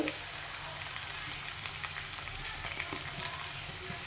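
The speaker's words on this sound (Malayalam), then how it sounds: "ഇതൊന്ന് മുക്കിച്ചെടുക്കാം അപ്പം നമ്മുടെ ഉള്ളി വെളുത്തുള്ളിയൊക്കെ ബ്രൗൺ കളറായിട്ട് വരുന്നുണ്ട്" Shallots, garlic and curry leaves sautéing in hot oil, browning in a pan, a dense continuous sizzle heard close and steady throughout, no voices over it.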